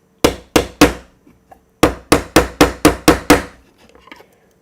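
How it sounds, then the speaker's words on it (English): Sharp metallic hammer strikes on parts of an Atomic MRZ RWD model car ring out close by, three quick blows, a pause, then six more in a steady rhythm, each decaying quickly. "so I'm going to use my hammer again."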